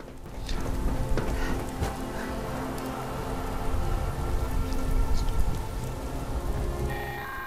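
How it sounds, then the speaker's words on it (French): Steady rain patters on surfaces with occasional louder drops, a continuous wet wash that swells and eases slightly, no voices, in the video game Fallout 76. "Il pleut."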